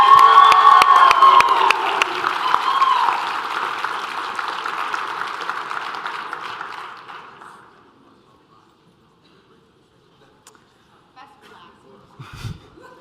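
Conference audience applauding and cheering at a winter business event, a dense, loud burst of clapping with shouts that gradually fades out over about eight seconds, followed by near silence with a few faint handling noises.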